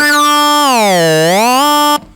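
A sustained buzzy Behringer Odyssey synthesizer tone whose pitch bends smoothly downward, holds low, then glides back up before cutting off abruptly.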